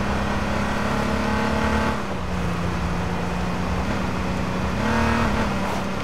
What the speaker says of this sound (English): My car turned on right at the last second.